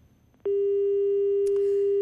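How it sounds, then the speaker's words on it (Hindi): After a phone call disconnects, a loud, steady telephone busy tone starts abruptly and holds without a break, with a couple of faint clicks over it. "फोन डिस्कनेक्ट हो गया है"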